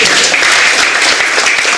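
A church congregation at a Pentecost Sunday service claps together in dense, sustained applause that fills the room loudly from start to finish.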